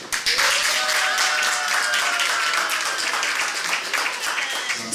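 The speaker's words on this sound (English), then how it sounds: "let's give a round, warm welcome and applause for Kevin O'Keefe." An audience applauds, a dense wash of many hands clapping, steady and full for several seconds with a few scattered voices underneath.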